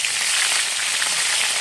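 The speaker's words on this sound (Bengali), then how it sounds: "মাছটা ভেজে নিচ্ছি।" Tilapia fish frying in hot oil, giving a dense, steady hiss and crackle that continues evenly at close range with no pauses.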